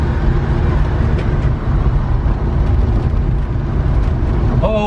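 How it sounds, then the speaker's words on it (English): A 1992 Suzuki Carry 4WD kei pickup with a flatbed pulling away, with a loud, low engine rumble throughout and a brief tire squeal right at the end. "time to drive. And tire squeal."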